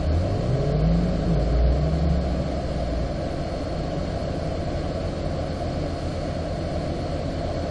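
A car on a track during a braking drill, its engine a steady loud rumble with a rising tone in the first seconds as it accelerates, then a continuous drone with no voices.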